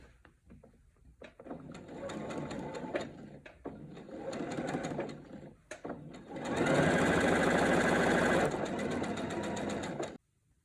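A sewing machine stitches quilt binding in several runs separated by short pauses, with a longer, louder steady burst near the end, all close and clear.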